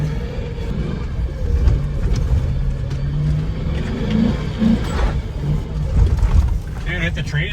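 A GMC Denali drift truck reverse drifting, its engine revving and rumbling loudly in waves under ongoing talk from people nearby.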